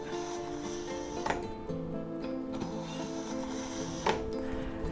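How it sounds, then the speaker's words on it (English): Santoku knife pulled lightly through a kitchen knife sharpener, with faint rhythmic scraping, metallic ringing tones and two sharper clicks, close by and without voices. "It's a Santoku knife, and we'll sharpen it up. Pull through there maybe 3 times."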